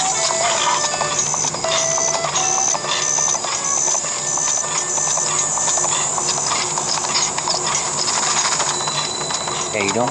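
Horse hooves clip-clop in Zelda: Breath of the Wild, a continuous rapid galloping rhythm mixed with dense game sounds and clicking mechanisms.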